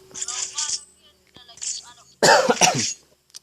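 A person coughs twice, loud and close, after a few brief murmured sounds.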